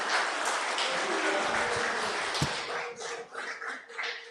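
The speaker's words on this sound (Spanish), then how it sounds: "Denle un aplauso al Señor." Church congregation clapping during a Pentecostal service, dense steady applause that thins and becomes patchier toward the end, with faint voices underneath.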